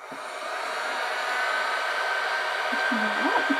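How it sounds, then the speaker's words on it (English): A steady, loud rush of blowing air from a heat gun on full runs throughout, used in making a wooden cutting board, with a few faint bumps and scrapes near the end. "So I'm just waiting for my heat gun to heat up"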